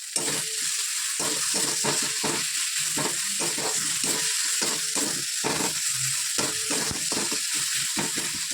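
Fish fries in hot oil in a pan, giving a loud, continuous hiss close by, with quick scraping and clicking strokes from stirring repeating throughout.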